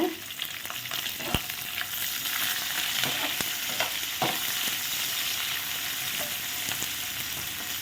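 Onion and green chili sizzle steadily in hot oil in a pan, a loud continuous frying hiss with occasional stirring clicks, no voices.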